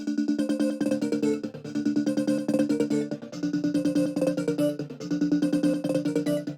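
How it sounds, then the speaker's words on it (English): A bright Serum Storytell Pluck synth from the Angelic Vibes Waves pack plays a rhythmic melody layered over an earlier gated, crystallized pattern in a beat, dense and steady throughout. "I'm using this Storytell Pluck from the Angelic Vibes Waves pack"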